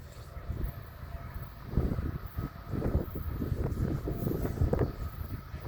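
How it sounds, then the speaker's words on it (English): BNSF autorack freight train led by ES44DC 7273 approaching slowly near Callao, Missouri: a low, rolling rumble that swells at moments under steady wind noise on the microphone, with no talk. "Here comes the train."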